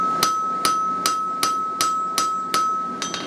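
Hammer flattening hot metal while forging a door pull finial, eight sharp ringing strikes at a steady pace of roughly two per second, close and loud with a bright metallic ring.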